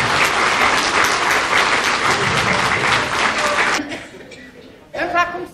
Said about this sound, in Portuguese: uma salva de palmas às mulheres no começo da nossa festa